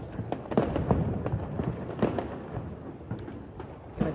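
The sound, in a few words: firecrackers bursting for New Year celebration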